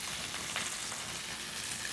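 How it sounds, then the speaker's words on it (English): Potatoes with rosemary, salt and pepper frying in a hot pan give a steady, loud, continuous sizzle with faint stirring crackles, no voices. "we'll get our potatoes in. We'll kind of get them really heating up in this pan."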